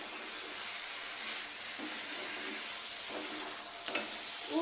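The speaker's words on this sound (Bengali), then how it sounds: "আলুটা দিয়ে আমি ভালো করে নাড়াচাড়া" Fried potatoes get stirred into a spiced curry for alur dum in a pan, a soft continuous sizzle broken by a few spoon scrapes and a sharper clatter near the end, quiet and without speech.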